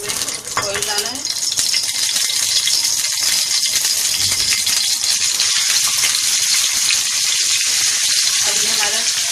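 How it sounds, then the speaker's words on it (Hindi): Oil and chicken frying in a hot pan for chicken sajji produce a loud, continuous crackling sizzle with rattling spatters throughout, close to the microphone. "अब इसमें थोड़ा सा ऑयल डालकर हम इसको पकाएंगे।"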